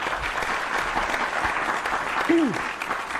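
Steady audience applause fills the whole stretch, dense and even at a moderate distance, with a brief whistle-like tone rising and falling near the end.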